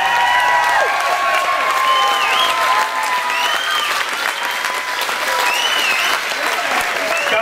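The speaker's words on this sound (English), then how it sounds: "Give them a round of applause." An outdoor crowd at a chilli festival's chilli eating contest final applauds steadily for the champions. Dense clapping runs throughout, with scattered cheers and some talking.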